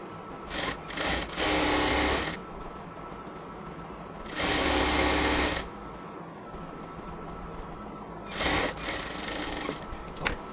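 Sewing machine stitching a half-inch folded hem on a cotton salwar, running in three separate bursts of a couple of seconds each, with quiet pauses between them.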